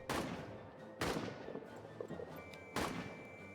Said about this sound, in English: Oh, here comes that artillery.